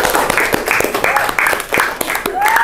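Classroom applause as a group claps together, a dense rapid patter running under loud overlapping voices and chatter throughout.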